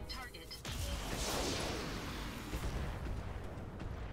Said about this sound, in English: Firing everything.